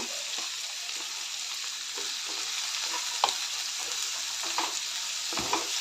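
Potato, carrot, ginger and garlic stir-fry in a pan for an aloo matar pulao, giving a steady, moderately quiet sizzle with occasional soft clicks and scrapes from stirring.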